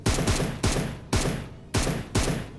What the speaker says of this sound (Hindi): देखो गोलियां भी गिन के चला रहा हूँ